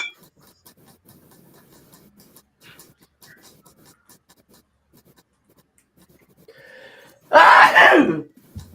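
One loud, sharp sneeze bursts out near the end after a long stretch of quiet, faint room sounds and soft rustling.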